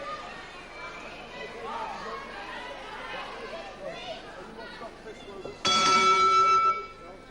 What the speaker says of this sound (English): The bell to end round 2 there.